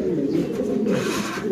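Spanish and King pigeons in a breeding loft give a continuous, close, low rolling coo that layers into a steady droning chorus.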